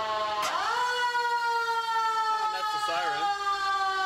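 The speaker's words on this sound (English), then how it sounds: "That's the siren." A fire truck siren at a fire station sounds from the 1989-era engine, wailing up to a sustained steady tone that dips and wavers near the end, loud and continuous throughout.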